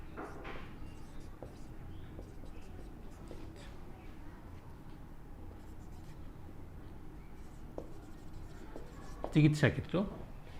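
Quiet scratching of writing on a board during a classroom lesson, soft and continuous under low background noise, with a brief louder clatter near the end.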